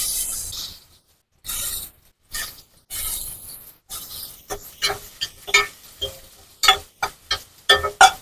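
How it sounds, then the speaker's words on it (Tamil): Chopped tomatoes are sautéed in a pan, with bursts of sizzling and spatula scrapes that come in uneven, increasingly quick strokes, loud and close. "தக்காளி கட் பண்ணி போட்டு வதக்கிக்கலாம்."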